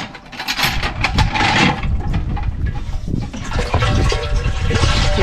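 Water runs steadily into a container, a continuous loud rushing and gurgling with some clattering knocks mixed in, lasting throughout without speech.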